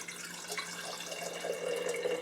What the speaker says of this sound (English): pour water on it